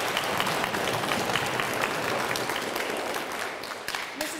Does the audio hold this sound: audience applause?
yes